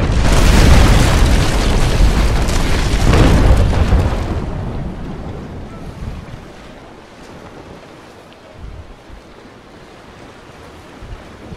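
Broadside cannon fire during a naval brig battle video game, a dense rumbling barrage of booms for the first few seconds, then fading to wind and water-like ambience with a few faint thuds.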